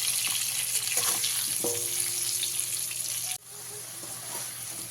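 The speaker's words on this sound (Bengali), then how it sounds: "আলুটাকে খুব ভালোভাবে লাল লাল করে ভেজে নিতে হবে" Potatoes fry in hot oil with salt and turmeric, a steady loud sizzle over a medium flame that drops to a quieter hiss about two-thirds through, with faint stirring clatter.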